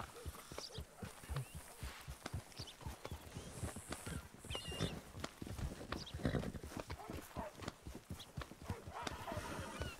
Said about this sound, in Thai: ทำเสียงขี่ม้า